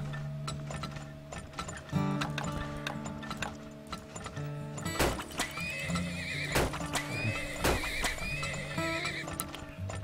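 Horses in the video game Turmoil neigh and whinny while hooves clip-clop, mixed with ratcheting, gear-like mechanical clicks and game effects, moderately loud and without talk.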